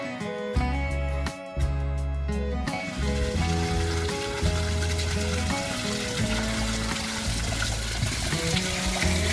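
Water flows steadily near a mossy green forest trail, a continuous loud rushing under a layer of music with no talk.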